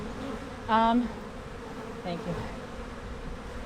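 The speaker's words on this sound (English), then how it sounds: "that is a lot of bees" A dense swarm of honey bees buzzes steadily around a hive, a continuous close, droning hum. A person speaks briefly over it.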